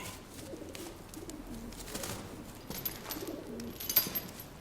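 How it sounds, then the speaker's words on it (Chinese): A pigeon coos softly in a scene from a Chinese kung fu film. Low, repeated rolling coos sit under a faint, hissy ambient background. "看来这鸽子尚且有藏身之处"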